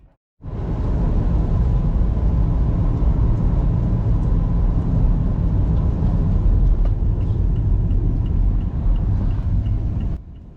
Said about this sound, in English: Driving into Leverton now,